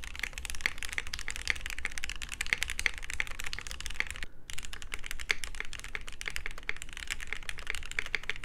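Steady close typing on a plateless mechanical keyboard with a force break mod and no case or PCB foam, a dense run of crisp clacky keystrokes broken by one brief pause midway.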